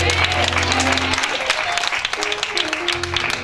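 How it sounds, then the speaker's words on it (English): Congregation clapping hands in praise during a church sermon, a dense burst of applause mixed with sustained vocal tones and some crowd voices. "Clap your hands and give God a praise."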